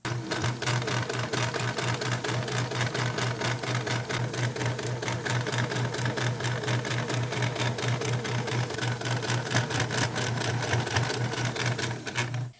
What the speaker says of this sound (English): I'm just going to baste across this bottom edge, being careful not to catch the bones with the needle.